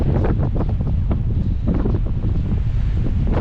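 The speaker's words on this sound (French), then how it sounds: "il n'y a pas grand chose qui arrête le vent" Strong wind on an exposed summit buffets the microphone continuously, a loud, rough roar with gusty rumbling throughout.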